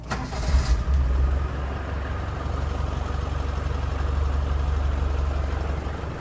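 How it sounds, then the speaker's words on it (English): A steady low hum and blowing rush begin after a short burst of startup noise as the air conditioning starts, continuing evenly inside a restored Land Rover Defender 110 300Tdi station wagon parked in a closed building. "You can hear the AC booting up."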